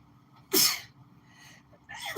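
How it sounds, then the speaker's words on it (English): Two sharp human sneezes, loud and close, about a second and a half apart, each a sudden burst of air with a brief vocal onset. "I feel like I have to sneeze."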